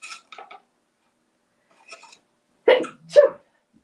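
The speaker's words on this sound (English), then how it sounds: "I'm going to sneeze here in just a second" A single sudden sneeze bursts out loudly near the end, preceded by faint breathy sounds and quiet pauses.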